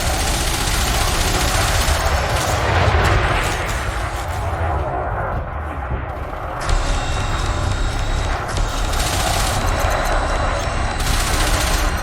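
Rapid, sustained bursts of automatic gunfire and heavy weapon blasts from a space combat in Elite: Dangerous fill the scene, loud and dense, with a brief lull midway before the firing resumes.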